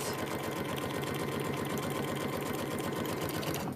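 A sewing machine stitches a paper-pieced prairie point trivet, running in a steady, rapid mechanical rhythm that stays loud and close from start to finish, with no voices.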